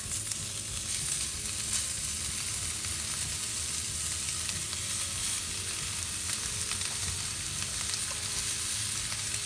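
Bacon-wrapped shrimp fry on high heat in an iron pan, making a dense, constant sizzle and crackle at close range with no voices and only faint stirring.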